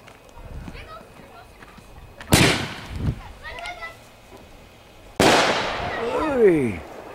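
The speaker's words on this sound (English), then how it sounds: "how excited she gets when the firecrackers pop" Two sharp firecracker bangs a few seconds apart, each ringing out loudly, with faint voices and rustling in between.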